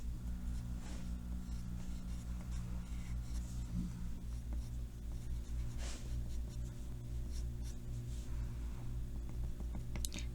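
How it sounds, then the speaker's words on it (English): Steady scratchy rubbing of chalk pastel drawn with the end of the stick across paper while petals of a flower are sketched, continuous and close, with occasional small taps over a low background hum. "I'm using the end of the chalk. And this is how I'm going to draw some of those extra petals."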